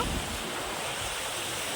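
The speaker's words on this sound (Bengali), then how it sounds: "এই যে এদিকে সমুদ্র" Sea surf at Digha beach rolls in as a steady broadband wash, with wind buffeting the microphone in low rumbles; no voices over it.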